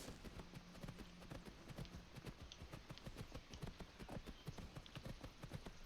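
Horse hooves clip-clopping steadily in the video game Skyrim, a close, even trotting rhythm of repeated hoof strikes with no talk over them.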